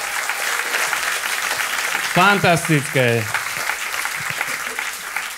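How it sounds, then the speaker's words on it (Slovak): Audience at a stand-up comedy show applauds loudly and steadily, a dense wash of clapping that runs throughout while someone speaks briefly over it. "Obrovský potlesk"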